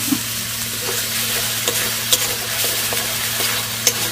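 Spice paste of cumin and coriander powder with water frying in a pan, a steady loud sizzle with occasional scraping stirs of a spoon, close and continuous without talk.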